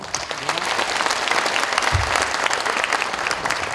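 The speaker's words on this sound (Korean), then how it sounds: "환영과 감사의 박수를 함께 치도록 하겠습니다" A large crowd of citizens and party members at a Korean lawmaker's constituency report meeting claps in welcome and thanks, a dense, loud, steady wash of applause that fills the room without talk.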